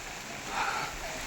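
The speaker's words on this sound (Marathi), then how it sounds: "जोरदार असा पाऊस आहे" Heavy rain falling at Shivneri fort during the climb, a steady hiss of rain on surfaces that swells briefly, with no talk.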